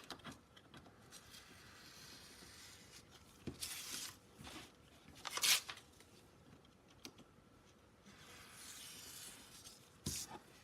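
Scissors or a blade cut through a paper collage panel, with two distinct sharp snips standing out over a faint, quiet background of light paper handling.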